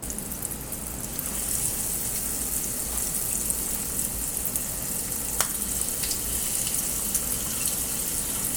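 Cassava balls frying, a dense, steady sizzle that continues without a break, with a few faint clicks and no speech.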